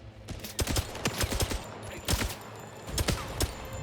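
Gunfire in the James Bond video game First Light, with an assault rifle, a quick scatter of sharp shots spread across a few seconds at moderate level, no talk.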